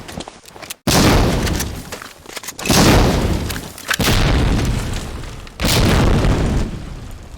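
Grenades explode in the World War II shooter Medal of Honor Allied Assault, in a multiplayer match. Several heavy, close booms follow one another, each with a long rumbling, crackling tail and no voices.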